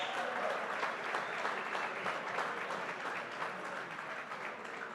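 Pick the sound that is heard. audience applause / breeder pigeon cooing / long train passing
audience applause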